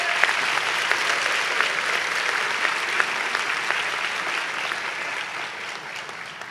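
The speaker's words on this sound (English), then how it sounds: "We need to just give them a round of applause." A university honors convocation audience claps continuously in a large hall, a steady mid-level wash of many hands with occasional sharper individual claps standing out.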